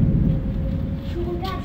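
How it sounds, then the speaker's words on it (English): A deep rumble of thunder from a lightning bolt rolls on continuously at moderate loudness, a low heavy roar with wind buffeting the microphone, and no clear voice over it. "Oh, it's a lightning bolt."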